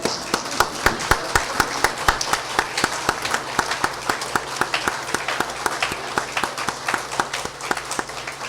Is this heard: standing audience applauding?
yes